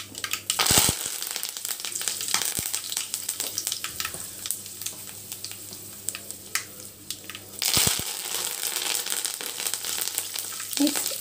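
Curry leaves hit hot oil in a pan, giving sharp crackling bursts near the start and again around the eighth second over a steady sizzle, close and fairly loud.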